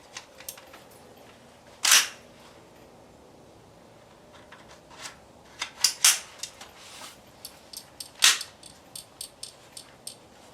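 A CETME L rifle fires a few sharp, isolated shots with gaps between them, as if a round fails to feed, followed by a cluster of lighter mechanical clicks and clacks from the action.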